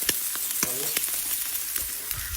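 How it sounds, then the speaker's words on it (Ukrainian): Large marbled beef steaks sizzle and crackle in a hot pan while camping, a steady close frying hiss with scattered pops and a few clinks throughout. "смажимо стейки від стейки Карпат"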